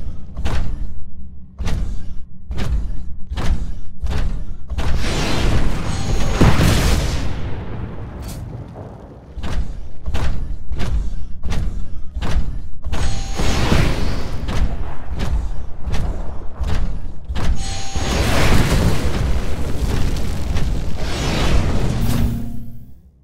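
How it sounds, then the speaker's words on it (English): Rockets blast and boom repeatedly down a hallway in Titanfall combat training, loud explosive bursts with whooshes and rumbling impacts recurring throughout, no voices. "Move down the hallway while avoiding the rockets."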